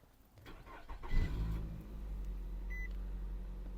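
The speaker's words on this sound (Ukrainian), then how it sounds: "давайте ми заведемо наше авто" A 2016 Nissan Rogue engine cranks and catches about a second in, then settles into a steady idle hum, with a short electronic beep near the end.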